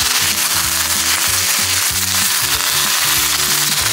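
Napa cabbage stir-fried in a wok for lion's head meatballs gives a loud, dense, continuous sizzle, with a rhythmic low thumping pattern running beneath it throughout.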